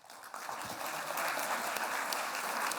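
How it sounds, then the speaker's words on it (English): Lecture audience at a public science and cooking talk clapping together, a steady wash of applause that builds slightly, fairly faint and distant, with no talk over it. "So you all have to clap."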